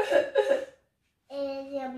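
A woman reading a children's Choupi story aloud imitates a child's cough with her voice, two short, close coughing bursts, then a pause before she goes on speaking.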